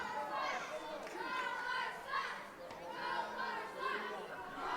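Crowd at an indoor wrestling show in Butler, New Jersey, chattering and calling out in a steady, dense murmur with occasional louder shouts rising above it.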